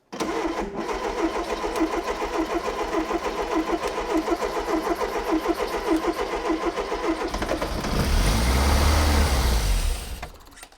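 Barn-find rare fast Ford engine cranking and catching on full choke, a long run of rhythmic starter churning before it fires into a loud, rough idle near the end.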